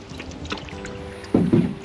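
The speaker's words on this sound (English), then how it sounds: "And just paddle along quietly" A canoe glides on a river, with a quiet background before two close, soft paddle strokes splash and swish near the end.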